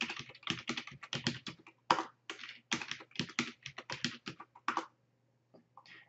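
A password is entered on a computer keyboard, with quick bursts of close, crisp key clicks in irregular rhythm, a brief pause, then a few final taps over a faint steady hum and no talking.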